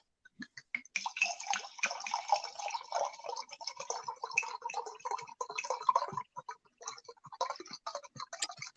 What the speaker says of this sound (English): You still pouring.